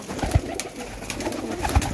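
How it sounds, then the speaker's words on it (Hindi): Soft, low cooing from pigeons, two brief throaty coos standing out against a background of rustling and faint bird chatter. "और ये कबूतर हैं जी"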